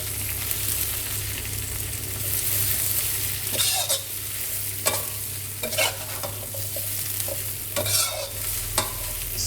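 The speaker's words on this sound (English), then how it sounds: "Stir it into the pan and let it fry." Chinese broccoli (kana) stir-fries in a hot pan for a crispy pork belly dish, giving a steady loud sizzle broken by several sharp scraping stir strokes, with no voices.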